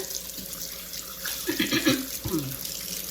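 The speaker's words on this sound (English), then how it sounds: "Wash my hands again." Water runs steadily from a kitchen tap into a sink as hands are washed, a continuous close hiss with some splashing and a faint hum beneath.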